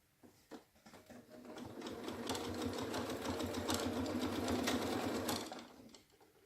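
A sewing machine runs a twin needle along a hem in stretch fabric, a steady mechanical whir that starts after a few brief taps, holds for about five seconds, then stops.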